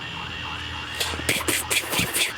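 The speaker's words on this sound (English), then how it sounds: "you hear the sirens?" A siren wails with a rising and falling tone, accompanied by bursts of louder noise over a steady background hum.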